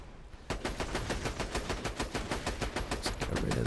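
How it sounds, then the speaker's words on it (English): Rapid automatic gunfire from the Droog weapon in Borderlands 2 rattles out in one loud, sustained burst of evenly spaced shots, close and continuous for about three seconds after a short quiet lead-in. "It's almost like a machine gun."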